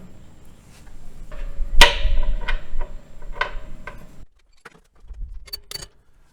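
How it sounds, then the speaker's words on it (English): Wrench work undoing the four bolts that hold a 220-volt air compressor motor to its mounting plate, a run of close metallic clinks, ratcheting and clatter, then a pause and a few lighter taps. "Now there's 4 bolts that hold the motor to the plate. So I'm just undoing all 4 of these bolts."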